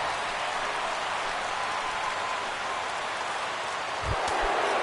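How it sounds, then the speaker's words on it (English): Steady rain hiss over a ballpark in the baseball video game MLB The Show 16, a constant broadband wash of falling rain lasting throughout, with a brief low thump near the end. "the rain continues to fall here"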